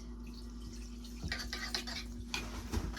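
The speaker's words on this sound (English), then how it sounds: "Do a quick wash of my hand" A kitchen tap runs steadily while hands are rinsed quickly beneath it, the water hissing and splashing close by with a few louder spatters near the end.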